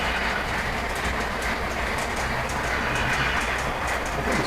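A model passenger train runs steadily on a holiday Polar Express layout, giving a continuous close rolling rumble with faint rhythmic clicking throughout, no voices present.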